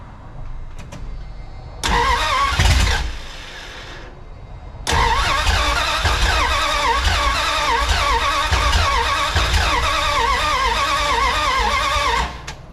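A 1981 Dodge D150 pickup truck engine cranks briefly, catches and runs rough for about a second, then cuts out. After a pause it starts again and keeps idling loudly and steadily until it shuts off near the end.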